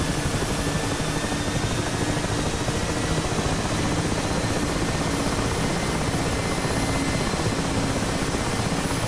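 A Mi-8 (Mi-17) helicopter's engines run at full throttle during startup, a loud, dense, continuous turbine roar with a steady high whine, held close and unchanging throughout with no talk.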